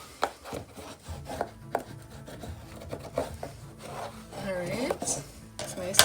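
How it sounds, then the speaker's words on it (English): Bone folder burnishing paper on the back of a Graphic 45 album box, a close, quiet series of rubbing and scraping strokes with a few sharper taps, no talking. "go in with my bone folder and just burnish the back of that"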